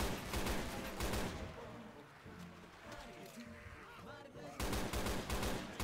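Rapid bursts of gunfire in the video game Left 4 Dead 2, on the Splash Mountain custom map, loud at the start and end with a quieter stretch of softer game noise between.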